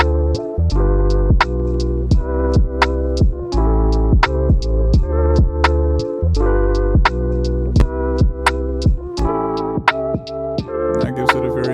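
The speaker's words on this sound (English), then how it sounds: "Reduce the stability for that pitch flutter." A lo-fi hip-hop beat run through tape simulation with reduced stability for wobbling pitch flutter: a steady, loud drum pattern with sharp regular hits over sustained chords, playing continuously without speech.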